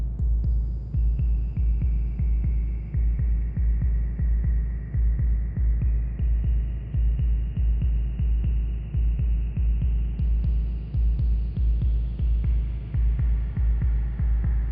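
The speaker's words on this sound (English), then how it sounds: "I'm going to put a filter into the first effects slot to get a bit more movement in this sound" A low, throbbing synth tone from an Octatrack pulses in a steady rhythm through a filter effect, its filtered timbre slowly shifting while higher tones drift in and out.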